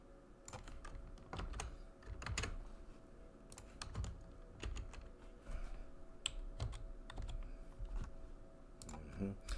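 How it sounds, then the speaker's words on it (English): Steady typing on a computer keyboard, with dense clicking keystrokes in irregular bursts, close and moderately loud over light background noise, in Escondido, California. "If you're wondering why I'm typing in Escondido, California"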